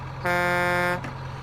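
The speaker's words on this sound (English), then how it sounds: "Air horns which work," A John Deere 7810 tractor's air horn in Farming Simulator 19 gives a loud, steady blast for about three-quarters of a second, rich and buzzy with many harmonics, over a low engine idle.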